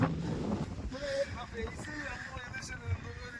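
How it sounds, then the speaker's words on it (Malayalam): Strong wind on a foggy hilltop at Muneeswaran Kunnu view point in Wayanad, gusts buffeting loudly at first and then rushing on beneath a speaking voice. "പക്ഷെ നല്ല കാറ്റാണ്. അതിൻ്റെ സൗണ്ട് ഇങ്ങനെ കേൾക്കാം. ഭയങ്കര കാറ്റ്."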